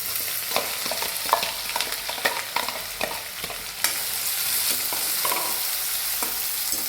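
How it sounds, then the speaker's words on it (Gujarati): Onions and chillies fry in a pan for rajma chawal, a steady loud sizzle broken by repeated scraping stirs of a spoon, with no voices. "ડુંગળીને શેકાવા દઈશું બરાબર."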